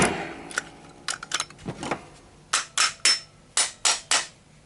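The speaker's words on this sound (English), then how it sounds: "And I might give it just a tap with a hammer," A few scattered metallic knocks, then six sharp, evenly spaced hammer taps on a Brava 3062 door lock, close and crisp.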